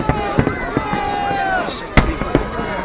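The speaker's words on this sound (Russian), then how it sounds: "Смотри, смотри, какой салют," Victory Day fireworks salute in Volgograd, with repeated sharp bursts and crackling booms at irregular intervals, whistling trails between them, while people talk and exclaim nearby.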